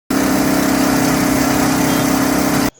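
An automatic rice mill machine on a 220-volt line starts up abruptly and runs with a loud, steady motor drone and a constant whirring hum that continues for a few seconds before cutting off, with no talk.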